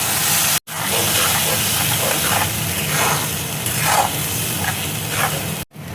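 Ground spice paste dropped into hot oil with fried onions for a dhaba-style egg curry, a loud continuous close hiss and sizzle that flares in waves and cuts out briefly twice.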